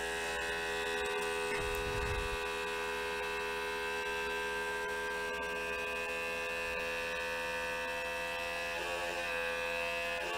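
A Harvest Right Premier vacuum pump runs with a steady, loud mechanical hum and harsh vibrating buzz, with a brief low thump near the start and no speech.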